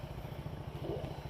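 A motorcycle idles close by with a steady, low chugging pulse throughout as it is brought to a stop at a house, a faint clatter rising briefly near the end.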